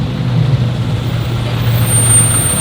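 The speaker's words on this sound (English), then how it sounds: "Y'all see the truck trying to stop my show." A truck at a car meet brakes, its engine holding a loud, low steady rumble close by, with a high air-brake hiss rising near the end.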